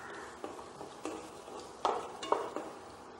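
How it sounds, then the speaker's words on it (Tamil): Green chillies, dried red chillies and curry leaves frying in a pan for a Tamil pumpkin poriyal, giving a close, steady crackling sizzle broken by a few louder stirring scrapes and clatters. "இப்போ நல்லா வறுபட்டுருச்சு."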